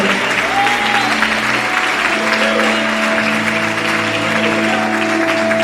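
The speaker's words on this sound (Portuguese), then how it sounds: "Pode aplaudir" An audience at a church conference claps in a steady, sustained round of applause, dense and even, with faint tones from instruments or voices held beneath it.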